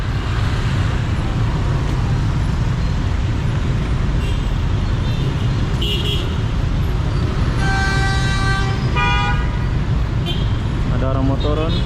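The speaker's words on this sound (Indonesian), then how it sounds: "Wow, bising kota Medan" Dense, loud street traffic in Medan, Indonesia, at evening, with engines rumbling, scattered car horns honking, and a longer horn blast toward the end.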